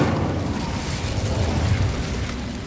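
An Incendio fire spell cast in Hogwarts Legacy gives a steady, roaring whoosh of burning flame, dense and loud from start to finish with no pauses.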